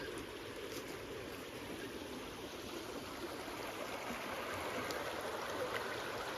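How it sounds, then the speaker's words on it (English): A creek flows beside a campsite in Yosemite, a steady, soft rushing and burbling of water that holds evenly throughout with no voices. "Waking up next to the creek."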